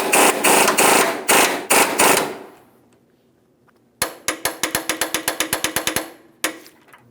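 An impact wrench tightens the forward mounting bolt of the front lower control arm on a 2007-2014 GMC Sierra 2500 HD, with loud sustained rattling bursts, a pause, then a rapid series of sharp hammering pulses and one final hit.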